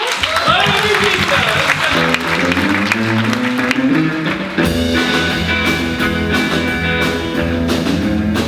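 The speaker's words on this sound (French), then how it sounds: "Moi, je pense qu'on peut quand même applaudir monsieur qui a trouvé la bonne réponse." Audience applause for a winner starts as a dense wash of clapping mixed with a voice and background music. The clapping then carries on, steady and fairly loud, under the music.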